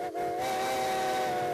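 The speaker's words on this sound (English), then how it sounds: "Every time the toot of a steam locomotive's whistle fills the air, it speaks in a unique yet universal language" A steam locomotive whistle sounds one loud, sustained, steady tone with a breathy hiss of steam underneath, near and alone.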